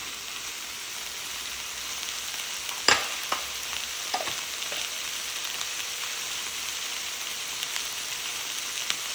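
Carrots and potatoes fry in a pan for a vegan curry, a steady close sizzle with occasional light clicks and taps of stirring, no talk.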